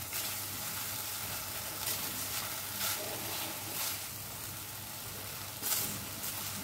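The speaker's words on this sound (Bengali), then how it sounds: "দিচ্ছি কাশ্মীরি রেড চিলি পাউডার, দিয়ে এটা একটু কষিয়ে নেব।" Kashmiri red chilli powder sautés in ghee mixed with a little white oil, a faint, even hiss with occasional soft stirring scrapes, steady and quiet for several seconds with no voices.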